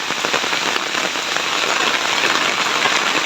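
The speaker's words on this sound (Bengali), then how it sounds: "প্রচুর বৃষ্টি, কালকে রাত ধরে প্রচুর বৃষ্টি হইতেছে।" Heavy rain pours steadily on a rainy day in a village, a loud, dense, continuous patter with no voices heard.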